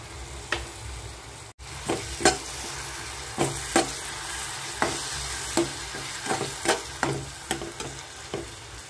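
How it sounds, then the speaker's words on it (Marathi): Tomato puree in a pan of sautéed onions for restaurant-style bhindi bhaji sizzles under repeated spoon strokes, a dozen or so distinct scrapes and knocks in an uneven rhythm, close and clear with no speech. "कांदा छान परतून घेतलेला आहे। नंतर यामध्ये टोमॅटो प्युरी टाकून घ्यायची।"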